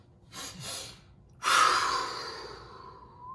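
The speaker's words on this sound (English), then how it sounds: "let's feel those breaths" Breathing during a yin yoga exercise: a short soft inhale, then a longer, louder exhale that fades away gradually, heard close and alone in a quiet space.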